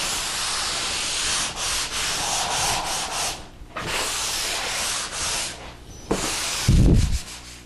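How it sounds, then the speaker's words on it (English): Drywall joint compound being sanded by hand, a steady close scratchy rubbing in long strokes with brief pauses, ending in a short louder thump. "Now that you're finished sanding"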